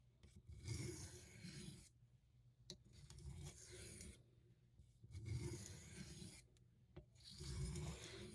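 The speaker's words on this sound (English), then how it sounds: "I was trying to smooth out those grind marks on the blade" The blade of a Rough Ryder Cinnamon Stag Cattleman knife is drawn across a sharpening stone in slow, repeated rasping strokes, each pass a soft gritty scrape separated by brief pauses, close and fairly quiet.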